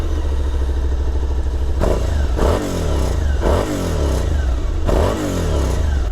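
A 2022 Suzuki SV650 V-twin motorcycle revs hard several times at close range, each throttle blip rising and falling back to a loud, lumpy idle, with no talking.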